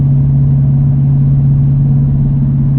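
A manual-transmission car's engine runs steadily on a straightaway before a rev-matched downshift, a loud, continuous low hum that stays level with no clear rev spike and no talking.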